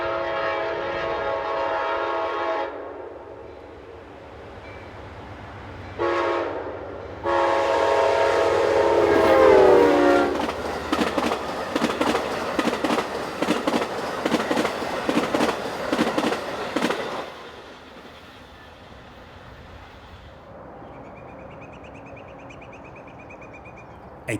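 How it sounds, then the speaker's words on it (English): A P40 DC locomotive races north hauling Amtrak's Carolinian, Train 80, in eastern Virginia. Loud horn blasts come first, then close, rapid rhythmic wheel clatter as the cars sweep past and fade into quiet. "A P40 DC speeds north with the Carolinian, Amtrak's Train 80, on its way from Charlotte, North Carolina to Boston."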